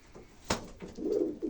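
A sharp click opens, then nearby loft pigeons give low, rolling coos in a short run of burbling phrases.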